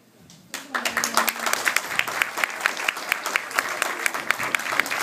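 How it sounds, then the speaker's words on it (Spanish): Guests clap at a quinceañera party in Hayward, a loud, steady burst of applause from the gathered family that begins abruptly after a short lull and carries on with sharp individual claps standing out. "Eso es fuerte el aplauso, por favor."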